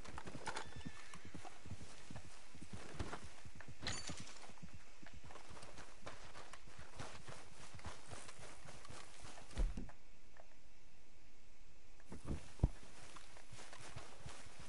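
Horse hooves clip-clopping in the video game Red Dead Redemption 2, a steady rapid rhythm of hoofbeats close up for the whole stretch, with a few sharper knocks and occasional whinnies.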